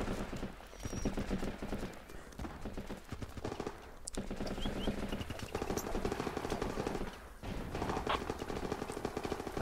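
M16 rifle fire in the game Running with Rifles, with rapid bursts of shots blended into a dense, busy battle mix, moderately loud throughout and without voices.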